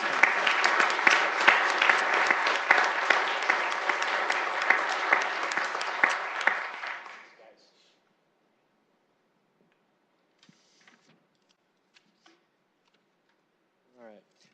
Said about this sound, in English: So please give a big round of applause to Aaron.